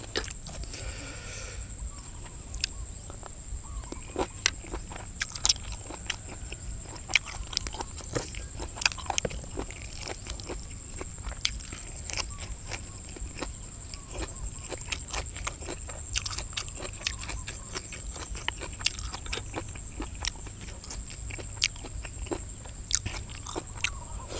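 Close, crisp crunching as crunchy snails are chewed, steady repeated bites and sharp cracks over nearly half a minute with faint background hum and no talk.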